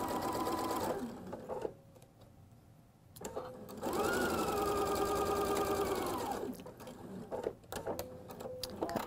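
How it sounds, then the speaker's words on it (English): Sewing machine joining pairs of quilt block pieces at a quarter-inch seam, two bursts of fast rhythmic stitching with a pause between, close and loud, plus small clicks and handling noises. "I'm going to sew those pairs together"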